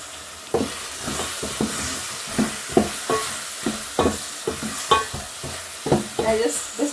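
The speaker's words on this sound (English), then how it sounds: "I'm just trying to get my tomatoes to mash a little bit" Tomatoes are stirred and mashed in a pot of pilau with ginger and pilau masala, rhythmic spoon scrapes and knocks over a steady sizzle, close and clear, with no talking.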